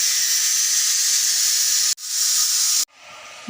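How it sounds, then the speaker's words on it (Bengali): A pressure cooker on the stove whistles with loud, sharp hissing steam jets, cut off abruptly twice, the last burst trailing off softer. "দুইবার সিটি দিয়ে দিলাম"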